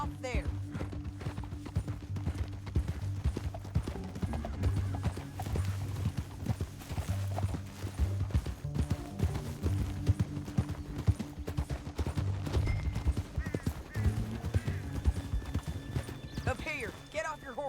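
Rapid hoofbeats of a galloping horse in the video game Red Dead Redemption 2, pounding along over a low droning music bed, continuous and fairly loud, with a brief whinny toward the end.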